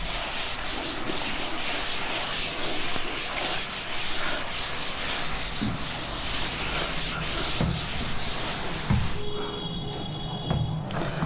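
Writing on a board is rubbed out with continuous scratchy strokes for several seconds, loud and close, easing off near the end.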